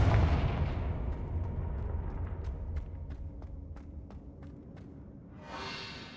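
Confringo fire spell in Hogwarts Legacy, a heavy booming blast that rumbles and fades over a few seconds, followed by a series of sharp rhythmic ticks and a brief whooshing swell at the end.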